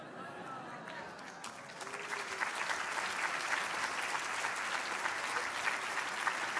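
Lecture-hall audience at an MIT linguistics talk breaks into applause, starting light and swelling after a couple of seconds into steady, dense clapping that carries on to the end.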